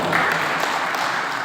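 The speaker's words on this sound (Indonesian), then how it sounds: "Tepuk tangan dulu Pak Bintang." Brief burst of audience applause for Pak Bintang at a civic gathering in Baubau, steady dense clapping across the hall throughout.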